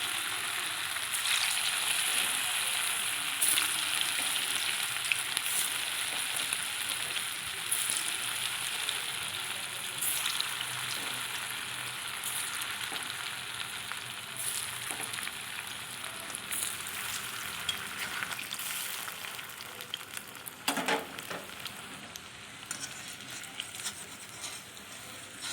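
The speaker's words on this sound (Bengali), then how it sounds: "এবার কোপ্তাগুলো সব ভাজা হয়ে গেছে, আমি এবার তেল থেকে তুলে নিচ্ছি।" Bottle gourd kofta balls fry in hot oil, a steady soft sizzle and crackle with faint bubbling that stays fairly quiet and even throughout, with no talk over it.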